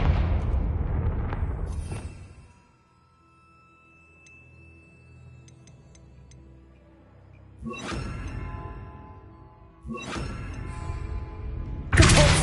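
The Confringo blast spell cast in Hogwarts Legacy: a loud fiery burst at the start fades into quiet hum, then further sharp explosive impacts land near the end, each with a whooshing crack.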